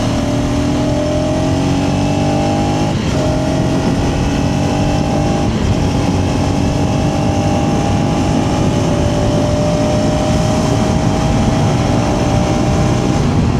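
A KTM ADV 250 motorcycle ridden faster on the road, its engine droning loud and close with rising pitch through gear changes, steady wind rush underneath.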